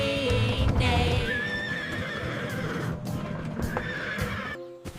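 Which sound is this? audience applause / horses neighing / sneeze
horses neighing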